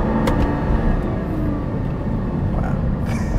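Lamborghini Gallardo LP560-4 supercar engine pulling hard in first gear around 3000 RPM, a loud steady drone heard from inside the car, continuous and unbroken.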